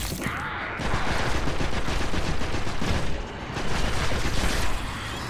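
Rapid, dense weapon fire from the video game Destiny, a sustained loud barrage of shots running through the whole stretch with a brief dip midway.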